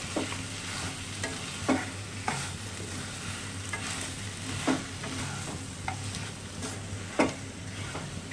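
Mutton cooking without oil in a covered pan, stirred now and then, giving a soft low sizzle broken by scattered clinks and scrapes of the spoon; no talking.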